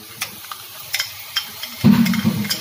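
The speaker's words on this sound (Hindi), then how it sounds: "तेल छोड़ दिया है मतलब मसाला मेरा भून रहा है" Masala paste frying in oil for a chicken chhole curry, with light sporadic clicks and scrapes of stirring, then a louder, denser sizzle in the final second.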